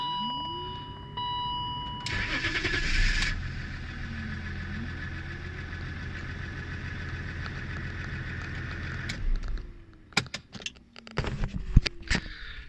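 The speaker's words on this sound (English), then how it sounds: "It has a 6-cylinder diesel engine." A 2001 BMW E39 525d with a 6-cylinder diesel engine idles steadily with a low rumble, revving briefly near the start, then cuts off, leaving scattered clicks and knocks.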